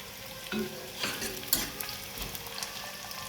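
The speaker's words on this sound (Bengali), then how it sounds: "আজকে মাংসটা একটু অন্যরকম করে রান্না করছি" Meat cooking in a pan sizzles continuously while being stirred, with scraping strokes and clinks of the utensil rising and falling at close range.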